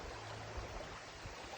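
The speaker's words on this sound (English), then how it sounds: "I can hear the water flowing beneath me" Cool water of a forest stream flowing beneath a trail crossing in a gorge, a faint steady rushing wash with no voices.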